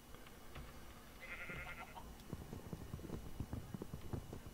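A sheep bleats once in Minecraft, a short nasal cry over a steady ambient background with soft clip-clop footsteps following.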